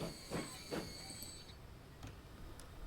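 A coal train in the Rail & Track Industry mod of a railway video game clanks along with rhythmic wheel thumps and a faint high metallic squeal, quiet and steady under a soft rumble.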